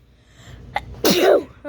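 A single sharp sneeze erupts loudly and close, preceded by a brief intake of breath and a faint earlier sound, in an otherwise quiet indoor setting.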